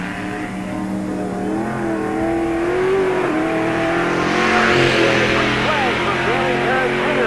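A NASCAR Busch All Star Tour stock car runs a qualifying lap at Tri-City Speedway in 1997, its engine droning steadily and swelling louder as it comes around, with an announcer talking over it throughout.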